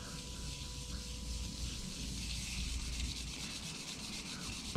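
Sandpaper rubbed over fresh 2K lacquer paint on a Harley, a continuous close scratchy rasp with slight rhythmic strokes, fairly quiet and steady, with no speech over it.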